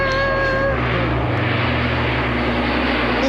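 An RAF Hercules military transport aircraft passes overhead, giving a loud, continuous low propeller-engine drone that shifts in pitch as it flies by, with no talk.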